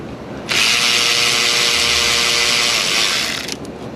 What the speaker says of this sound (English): Take the electric ratchet.